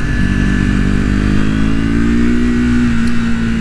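A 2024 Triumph Speed 400 motorcycle engine while riding, ride-by-wire: steady loud mid-pitched engine drone with a slowly rising tone, constant and close, with wind rush and no talk.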